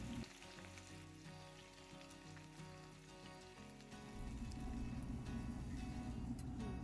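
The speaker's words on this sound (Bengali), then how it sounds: "এবার অল্প নুন দিয়ে পেঁয়াজটাকে ভাজতে হবে" Onions fry in ghee with whole garam masala and cloves, a faint, steady crackling sizzle that grows fuller and denser partway through, with no one speaking.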